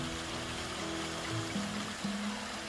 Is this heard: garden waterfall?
yes